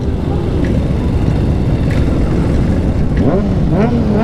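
A 2020 KTM 500 EXC-F dirt bike runs loud and close at a busy season-opener ride with hundreds of bikes, a rough engine drone with revs rising and falling, while voices talk over it.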